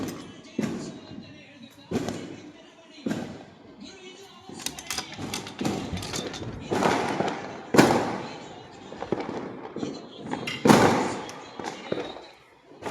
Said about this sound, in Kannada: ಅಯ್ಯೋ, ಪಟಾಕಿ ನೋಡಿ ಹೆಂಗ್ ಹೊಡಿತವ್ರೆ.